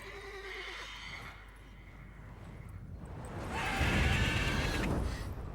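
A horse whinnies nearby in The Witcher 3 video game, then after a quieter stretch gives a second, louder, drawn-out neigh over rough background noise.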